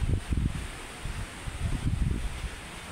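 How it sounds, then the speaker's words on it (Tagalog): Strong wind at sea buffets the microphone in heavy, gusty rumbles, with a constant rushing hiss and no voices. "Lakas po ng hangin sa dagat."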